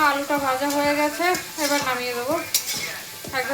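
Food frying in a pan with raw garlic and greens, a steady sizzle under stirring scrapes and brief taps, with a voice sounding intermittently over it.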